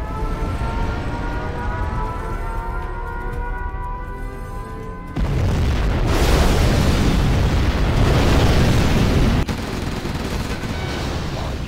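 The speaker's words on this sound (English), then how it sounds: "We have launched our nuclear missile." A Chinese nuclear missile strike in Command & Conquer Generals Zero Hour: a tonal launch drone gives way to a sudden, massive roaring detonation that rumbles loudly for several seconds before settling into a sustained noisy wash.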